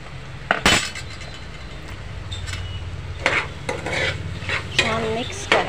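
A spoon stirs potato and eggplant curry in a pan, with scraping strokes and sharp metallic clinks against the pan over a soft sizzle.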